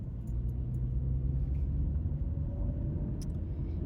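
A car's low, steady engine rumble and road noise fill the cabin as it drives around the block, even and continuous, with a couple of faint clicks on top.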